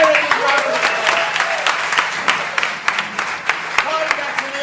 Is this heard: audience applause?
yes